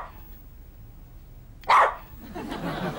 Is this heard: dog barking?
yes